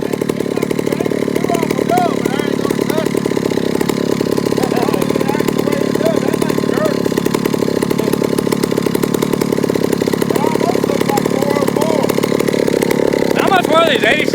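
An 87cc chainsaw runs continuously nearby, its engine holding a loud, steady drone with slight shifts in pitch, while people talk over it.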